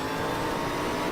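Race car engine held at full throttle in the GTR 2 racing game on the Watkins Glen circuit, a loud, steady, dense roar that fills the whole clip with no pauses.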